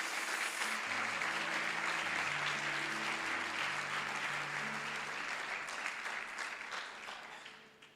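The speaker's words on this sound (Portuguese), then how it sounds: "aplauda ao Senhor Jesus" A church congregation breaks into sustained, loud applause during a worship service, with an organ or keyboard playing sustained notes underneath before the clapping fades toward the end.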